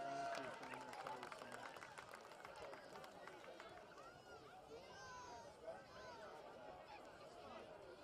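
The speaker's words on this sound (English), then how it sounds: "let's give him a big round of applause" Crowd applause and cheering at a high school football game, Seneca East at Mohawk, honoring the team trainer; a broad, steady wash of clapping and chatter from the stands, moderately distant, with a voice talking over it.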